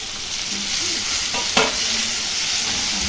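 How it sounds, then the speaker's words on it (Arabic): Taro sautéing in ghee hisses with a steady sizzle while a spatula stirs and scrapes the pan, with one sharp clack midway, close and continuous. "نشوح فيه لما السمنه تفصل عن القلقاس كده"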